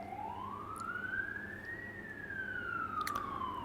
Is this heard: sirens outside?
yes